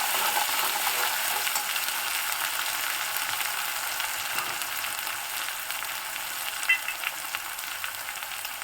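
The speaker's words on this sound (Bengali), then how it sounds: "এবার মশলাটাকে খুব ভালো করে একটু কষিয়ে নেব।" Dry spices with ginger paste sautéing in a pan, with no added water, make a steady, even sizzle and hiss throughout, with faint scraping of a spoon stirring the masala.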